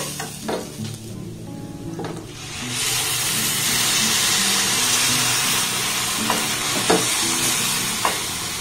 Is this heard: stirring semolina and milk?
yes